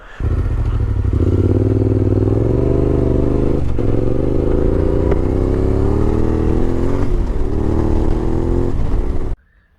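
Off-road motorcycle riding a two-track dirt trail through the California desert, engine droning loud and steady close by, pitch rising and falling with throttle, with rattles and clatter over the rough ground, then cutting off at the end.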